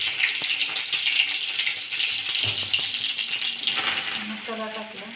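Mustard and cumin seeds hit hot oil for a potato bhaji, giving a close, steady sizzling hiss with small crackles and a light metallic clink.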